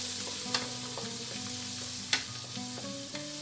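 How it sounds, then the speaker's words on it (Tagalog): Mushrooms sautéing in a pan for a creamy carbonara give a steady close sizzle, with a few sharp utensil clicks against the pan and soft music running underneath. "igisa lang natin ang ating mushroom chef ng at least 2 minutes"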